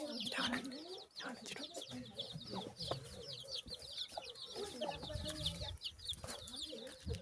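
Hens and small chicks cluck and cheep around a Nepali cowshed, busy overlapping calls and high peeps close by, with occasional soft voices in the background.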